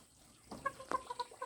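Several short clucks from chickens, close by, coming in quick irregular bursts after a quiet start.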